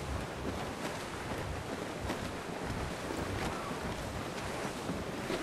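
Steady roar of wind over crashing ocean surf in the video game Assassin's Creed IV: Black Flag, loud and continuous throughout, with no voices.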